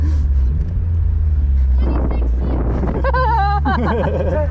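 A boosted Mazda Miata engine roars steadily under continuous nearby speech while drifting, with a low droning rumble throughout and rising, wavering pitch sweeps near the end.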